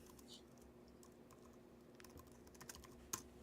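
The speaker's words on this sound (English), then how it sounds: "Oh, the keyboard makes sounds." Faint, steady computer keyboard typing, with soft rapid key clicks under a low background hum and one slightly sharper keystroke near the end.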